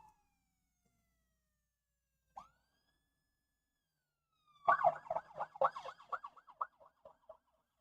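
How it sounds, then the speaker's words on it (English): Sirens sound from a distance, fairly faint: a brief rising tone first, then a fast warbling yelp that fades away, with no voices present. "Sirens."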